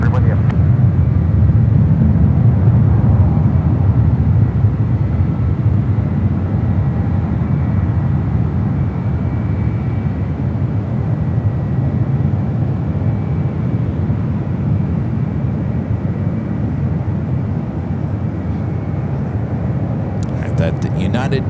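A United Dreamliner jet lines up on runway 28 left at San Francisco airport, its steady broadband engine roar holding at a constant level throughout, with radio chatter and voices faintly over it.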